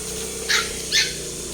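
A dog gives two short barks, somewhat distant, over a constant background rush of a strong-flowing spring stream.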